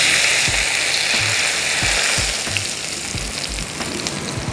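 Hot oil poured over chili sambal for ayam geprek crackles in a steady, close sizzle, with light stirring knocks pulsing beneath it and no talk.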